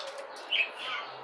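A pair of budgerigars, a moss-green male and an opaline female, chirps softly with brief high twittering notes over a steady background hiss, one slightly louder chirp standing out near the middle.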